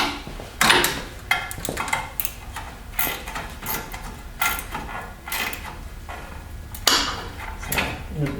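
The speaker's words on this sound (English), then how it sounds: "I got my wrench on the back. And so what I'm doing is just tighten it down." A wrench tightens a nut on the brake fluid reservoir of a 2016 Victory Cross Country motorcycle, giving scattered close metallic clicks and clanks with short pauses between turns.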